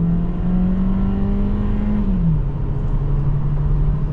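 A 2026 Volkswagen Taos engine drones steadily as the SUV corners quickly on a busy highway, its low hum dipping slightly in pitch midway, loud and continuous with no talking.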